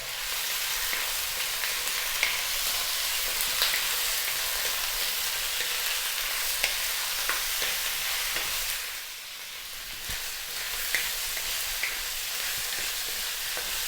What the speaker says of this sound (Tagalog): Gigisayin ko lang siya ng mga 3 minutes